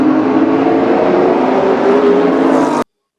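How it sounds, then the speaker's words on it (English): Ontario Outlaw Super Late Model race cars racing at Flamboro Speedway, heard as a loud, steady engine roar that stays close and constant and then cuts off abruptly. "we close in on 15 laps to go here in the running of the Don Biederman Memorial for the Ontario Outlaw Super Late Models"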